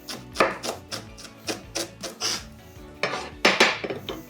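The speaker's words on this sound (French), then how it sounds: "Une fois l'échalote coupée, on vient la ciseler." A knife works through shallot on a cutting board, giving a series of crisp taps at an uneven rhythm with brief pauses between bursts. The sound is close and moderately loud, with no voices.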